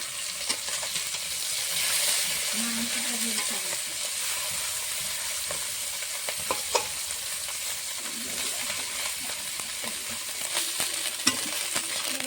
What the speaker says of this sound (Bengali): মাছগুলো এক সাইডে ভাজা হয়ে গেছে, উল্টিয়ে দিচ্ছি।